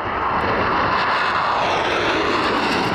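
A fighter jet engine roars loud and steady, a continuous broadband rush with no pauses and no speech, fitting Türkiye's KAAN fifth-generation combat aircraft.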